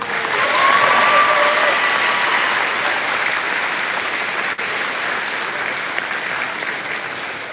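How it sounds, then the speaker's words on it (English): Crowd applause in a Brooke High School pep assembly welcoming the new head football coach, loud dense clapping that fills the gym, swelling early and then holding steady with a slight fade toward the end. "we ask everyone to give a warm round of applause for our new head coach"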